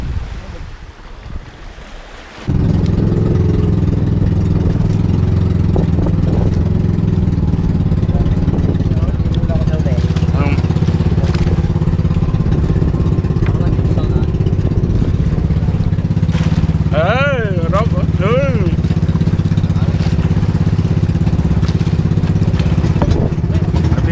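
A boat engine starts up loudly after a quiet opening and then runs as a steady, throbbing mechanical drone, near the listener, on a trip back to the island at Bituin Cove, Batangas. Wind buffets the microphone and water splashes underneath.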